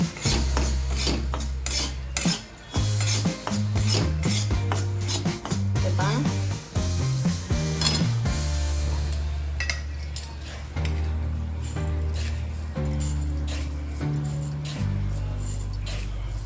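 A spoon scrapes and stirs roasted moong dal in a metal pan as sugar is mixed in for halwa. Repeated loud rasping strokes and metallic clinks come in an uneven rhythm, up close.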